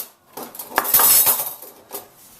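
A folding metal BushBox XL camping stove is opened and set up close by, giving a quick run of clinks, rattles and a scraping clatter before it goes quiet, with a final small click.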